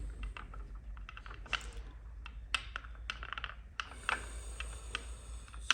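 Torx bolts are fitted on a BMW R NineT air filter, with close, light clicks and small metallic taps that come irregularly over a low steady hum.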